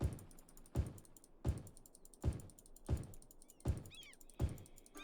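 Quick computer mouse and key clicks come in a steady rhythm of roughly one every three-quarters of a second while a city-building game, Cities: Skylines, is played, close and fairly quiet with a faint background hum.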